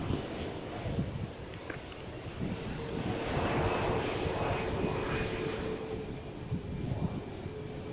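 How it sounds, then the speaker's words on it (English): Ryanair airliner taking off at Malaga Airport on a stormy morning, a broad steady jet roar swelling and holding across the runway with rain and distant rumble mixed in, no voices. "it seems Ryanair flight to Tétouan cleared for takeoff."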